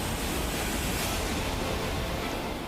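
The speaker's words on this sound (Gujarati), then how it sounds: "અત્યારે પાણીનો પ્રવાહ મોટી પ્રમાણમાં આવી રહ્યો છે" Floodwater surging strongly through a flooded residential area of Lalkhan, Jamnagar, in Gujarat, a loud, continuous broadband roar with no breaks and no voices.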